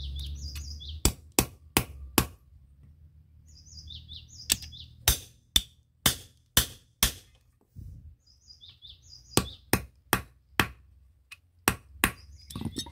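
A nail is hammered into a homemade sugarcane scraper with sharp metallic strikes in short quick runs separated by pauses. The blows are close and ring clearly, with faint bird chirps in the background.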